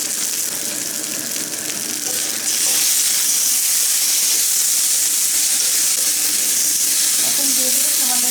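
Ginger-garlic paste mixed with cumin-coriander paste fries in hot oil with a dense, steady sizzle that grows louder after a moment, with occasional stirring scrapes.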